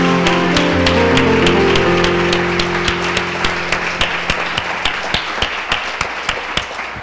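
A church congregation clapping together at an evening service, a dense burst of applause that settles into steady rhythmic unison claps, with sustained music underneath early on.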